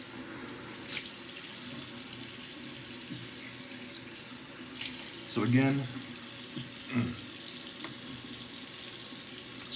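Tap water runs steadily into a sink as a shaving setup is rinsed clean, a continuous hiss under a voice, with a brief gurgling splash midway.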